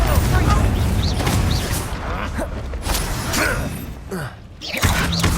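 Fiery Confringo spell blasts in Hogwarts Legacy burst out amid a busy battle, loud booming impacts and crackling debris layered over game music and combat noise, with voices talking through the fight.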